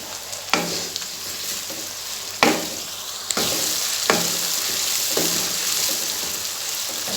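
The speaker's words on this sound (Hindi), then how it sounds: "अब हम इसमें लहसुन अदरक का पेस्ट डालकर इसे थोड़ा फ्राई करेंगे।" Garlic ginger paste frying with browned onions in a pan, a steady loud sizzle broken by several sharp clatters of a spoon stirring, with no voices.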